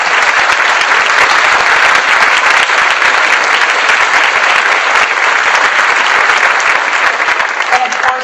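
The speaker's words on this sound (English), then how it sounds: "Could we give those gentlemen and ladies a round of applause?" Loud, sustained applause from a large audience, steady and dense for the whole stretch with no break.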